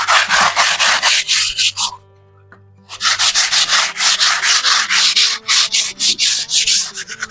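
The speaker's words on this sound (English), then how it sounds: "you still have to sandpaper" Sandpaper is rubbed over a freshly skimmed plaster wall in loud, close, rhythmic back-and-forth strokes, pausing for about a second before the steady scraping resumes.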